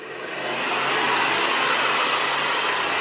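Hair dryer blowing heat on hair roots, a steady loud broadband whoosh that swells up over the first second and then holds constant and close, with no talking.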